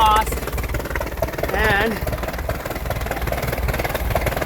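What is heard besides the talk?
boat engine running after impeller replacement, water spitting from exhaust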